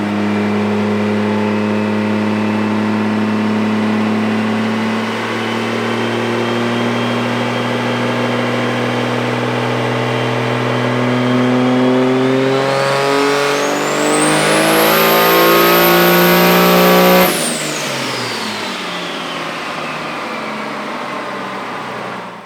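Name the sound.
Cummins diesel truck engine with 72mm turbo revving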